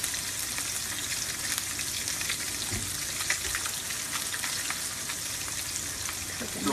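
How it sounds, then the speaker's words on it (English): Fish sears in a hot pan with a steady, even sizzle and crackle that holds at a moderate level throughout, with no voices over it. "So I'm going to let those sear for a little bit."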